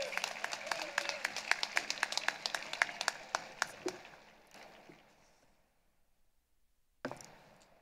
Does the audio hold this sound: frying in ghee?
no